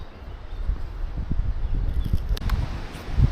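Wind buffets the microphone beside a river at old gold-bearing deposits, a low, steady rumble with gusty swells and faint rustling on top.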